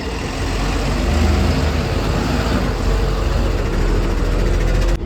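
A luxury bus engine idles at a parking lot in Kandivali West, a loud, steady low rumble that continues unbroken throughout.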